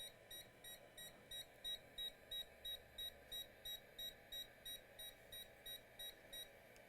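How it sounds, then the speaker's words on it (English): A steady series of short, high electronic beeps from a voltage injection tool during an Asus Zephyrus laptop repair, repeating at a quick, even pace, about two per second, over a low background hum. "You see we have a beep when I inject voltage."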